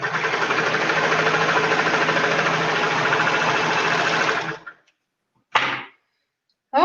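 A sewing machine runs steadily for about four and a half seconds, sewing the arms onto a garment with clear elastic in the seam, then stops; a short second burst follows, and another starts at the very end.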